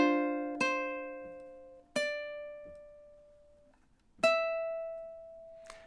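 Ukulele playing a bar of a song, four sparse plucked notes and chords ringing out one at a time with long decays, close and clean with no talking.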